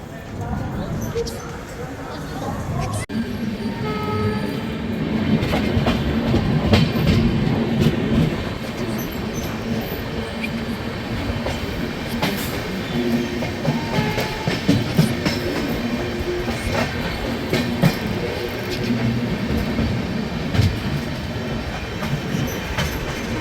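The Mahakaushal Express runs at speed past another train on parallel rails, a dense continuous rumble with wheel clatter and occasional screeching, loud and close, with someone talking over it.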